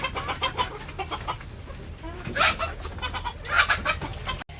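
Chickens cluck steadily on a village poultry farm, several birds close by with louder bursts around the middle and near the end, a continuous busy farmyard chatter with no talking.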